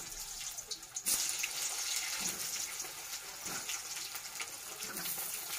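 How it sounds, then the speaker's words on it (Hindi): Potatoes drop into hot mustard oil and fry with a steady crackling sizzle that surges as they hit the pan and then settles into a constant hiss. "तेल हमारा गर्म हो गया है, अब इसमें आलू को डालकर अच्छे से फ्राई कर लेंगे।"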